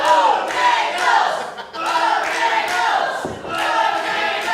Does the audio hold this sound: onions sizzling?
no